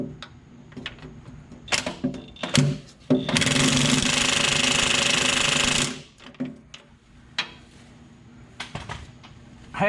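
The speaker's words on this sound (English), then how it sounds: "I think that impact's got 700 foot-pounds of torque on number 3" An impact wrench drives bolts on an International S1654 truck during oil cooler, starter and radiator work, a loud sustained rattling burst of about two and a half seconds among scattered metallic clanks and taps.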